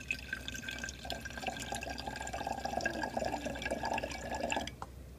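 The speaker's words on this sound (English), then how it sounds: "as I pour more water, what happens to my color?" Water is poured steadily into a copper ion solution, making a faint continuous trickle and splash with small drip-like sounds that stop near the end.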